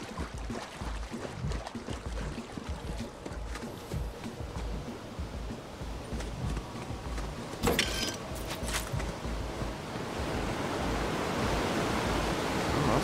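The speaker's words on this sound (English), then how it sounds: "Oh, that's quite the waterfall." A waterfall in the video game Borderlands 3 rushes as a steady, dense roar throughout, growing slightly fuller toward the end, with a few brief sharp game sounds in the middle.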